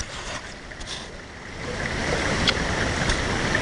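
Creek running high after rain, a steady broadband rush of flowing water heard close and continuous, swelling slightly louder toward the end with no voices over it.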